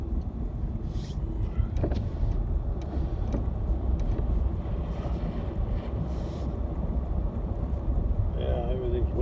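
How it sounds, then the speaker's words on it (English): Traffic passes on a wet, foggy road during a thaw, a steady wash of tyre hiss and rumble with wind noise, fairly loud and continuous throughout. "There's the traffic."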